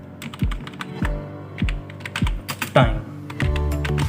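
Keys on a computer keyboard are typed in quick clicking bursts while someone talks over them, entering input for a Python simple interest program.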